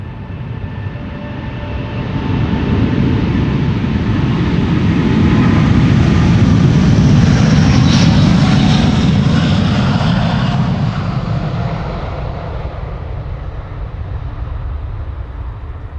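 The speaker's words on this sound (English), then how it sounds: "First of two Delta A330s. This is the Neo to Minneapolis, Minnesota." A Delta Airbus A330neo jet departs Amsterdam Schiphol, its engine roar swelling to a loud, broad rumble mid-takeoff, then slowly fading as it climbs away, heard alone without talk.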